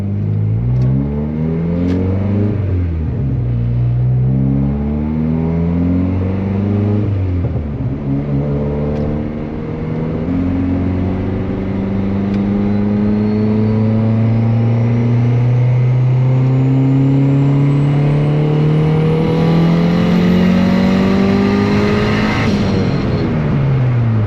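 A built turbocharged Honda D16 running on E85 at 25 psi revs hard through repeated rising pulls, its engine note climbing and dropping in several long sweeps, loud and close with no talking.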